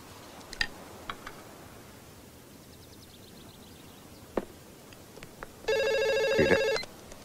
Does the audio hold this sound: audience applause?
no